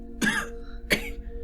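A person imitates a cough during a tabletop role-playing session, with two short, close, rasping bursts separated by a brief pause.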